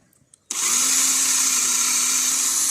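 A power drill bores a shallow hole into the stud socket of an EasyCare Glove hoof boot, starting abruptly after a brief quiet moment and whining steadily and loudly.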